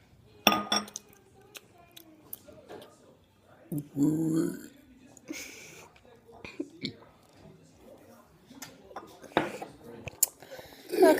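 A person burps loudly several times during a burping challenge, with clinking cutlery and dishes nearby and people talking and whispering between the belches.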